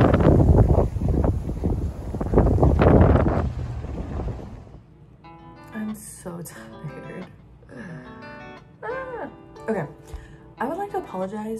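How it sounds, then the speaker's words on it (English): Gusty wind buffeting the microphone outdoors at a disc golf course in a Waco park, loud and rumbling for the first few seconds, then easing as people talk. "Waco wind."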